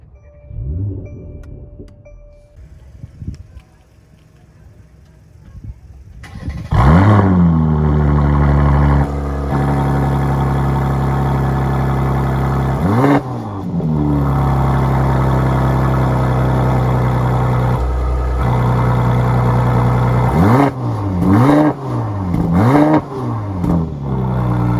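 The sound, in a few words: 2021 Mercedes-AMG C43 engine starting and revving, exhaust valve open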